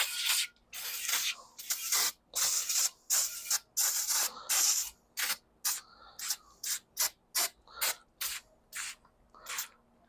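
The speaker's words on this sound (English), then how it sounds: "let's spray that degreaser on this side, give it 5 more minutes" Repeated short hissing bursts of a spray bottle of degreaser, close up, with uneven gaps between pumps, the bursts getting shorter and quicker toward the end.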